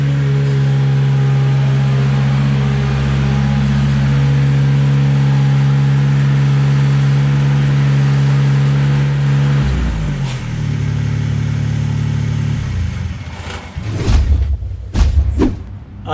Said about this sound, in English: This stump grinder is awesome.